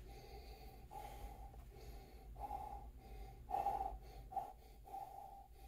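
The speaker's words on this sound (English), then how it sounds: "but let's take a sniff." Several breathy sniffs through the nose over a glass of mezcal, soft and close, coming in short irregular pulls with quiet gaps between them.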